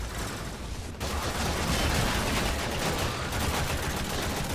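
Continuous loud gunfire from the shooter video game Warframe, with a dense, unbroken stream of rapid shots filling the whole moment and no talk over it.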